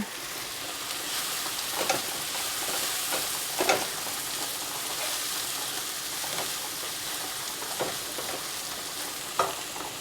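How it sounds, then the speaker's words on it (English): Onions sweat with a little salt in a pan over lowered heat, giving a steady, soft sizzle throughout. Occasional spoon scrapes and stirring sounds are heard close by, with no voices. "Turn down that heat slightly so you don't burn your onions. You just want them to sweat."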